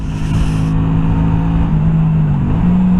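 Honda Shadow 125 motorcycle engine under way, a steady loud drone whose pitch holds, dips briefly and then rises again as the bike is ridden, with continuous road and wind noise throughout.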